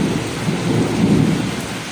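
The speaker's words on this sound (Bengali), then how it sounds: "এত জোরে বৃষ্টি নামছে" Heavy rain pours steadily with a deep rolling thunder rumble underneath, loud and close, with no voices.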